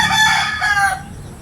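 A rooster crows loudly and close by, one long strained call that trails off toward the end, with no voices present.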